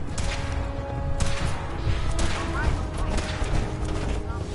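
Gunfire in a PS4 video game, several loud bursts and booms mixed with clattering crashes, heard close over game music and voices.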